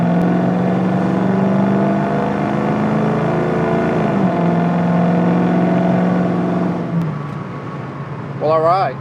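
A restored 1966 Ford Mustang Fastback engine drones loudly and steadily from inside the cabin during a test drive, pitch shifting as it revs and settles, then easing off near the end with a brief voice.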